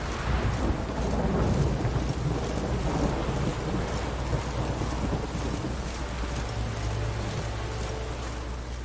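In The Witcher 3, a thunderstorm sounds as a deep continuous rumble of thunder, with rain and wind roaring throughout and no voices.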